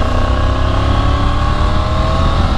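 A new superbike's engine drones loud and close in road mode while being ridden, a sustained, steady roar with a harmonic whine and no talking.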